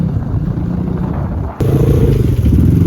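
Motorcycles ride past on a road near Sikles, their engines rumbling loud and close, with a sharp jump in level halfway through as another bike draws near.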